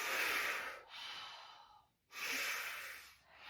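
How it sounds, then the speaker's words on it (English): Deliberate mouth and nose breathing exercise: two long, close breaths, each a strong airy rush that fades, with a short pause between them. "Now we're going to do those mouth breaths and nose mouth breaths."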